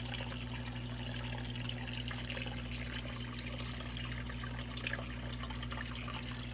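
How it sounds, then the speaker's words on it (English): Water runs steadily from a hose rinsing sand for a small indoor pond, a constant hissing wash at moderate level with a low background hum throughout. "I got the hose running"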